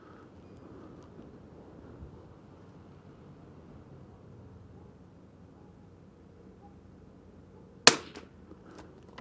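A single sharp rifle shot from a Winchester 52D target rifle firing Federal Gold Medal Ultra Match ammunition cracks out loud and close after a long quiet stretch, followed by a faint echo.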